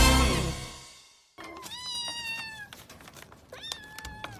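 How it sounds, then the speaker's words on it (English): Kittens meow in a run of high, bending cries, several short calls one after another, close and clear after a loud musical sting cuts off. "Kittens."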